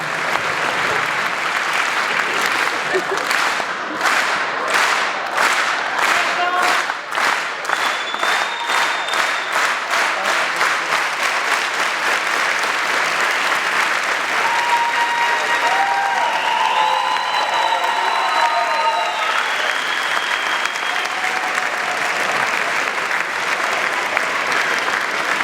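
A large audience at a live comedy event claps steadily and loudly for the whole stretch, dense sustained applause with brief whistles and cheers rising through the middle and end, no speech on top.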